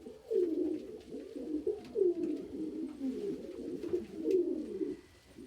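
Pigeons or doves coo at a backyard breakfast feeding, a run of soft, low, throaty calls repeating in a steady pulsing rhythm, fairly close, with no voices.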